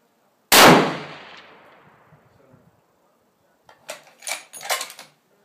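A single sharp, loud rifle shot from a .338 Lapua Remington 700 MLR on an outdoor range, its report decaying over about two seconds before a few metallic clicks and clacks from the bolt.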